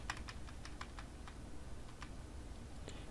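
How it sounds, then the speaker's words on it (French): Steady typing on a computer keyboard while editing a configuration file on a Debian 11 Linux system, with rapid irregular clicks, a few sharper strokes, close and clear over a constant low hum. "Attention, vous bougez uniquement avec votre clavier."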